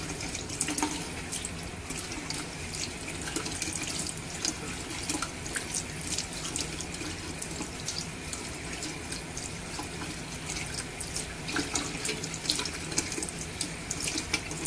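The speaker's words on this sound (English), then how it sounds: "open your water, squeeze out the excess dirt from the sponge" Steady running water pours from a tap into a sink, with scattered splashes and drips throughout.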